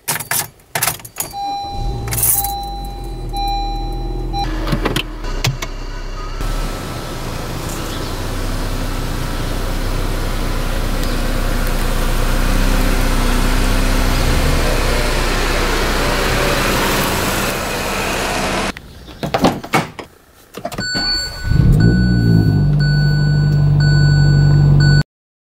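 Cars being moved with engines running, part of work on a Mazda Miata: short bursts of engine and door sounds at first, then a long steady engine drone, followed by chimes and a tonal hum near the end, with no speech.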